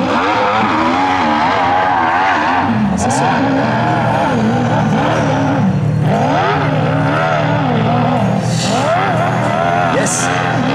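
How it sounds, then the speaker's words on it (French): A hill climb motorcycle engine revs hard and rises and falls in pitch as it climbs, loud and close, with brief speech over it. "je vous laisse écouter le moteur"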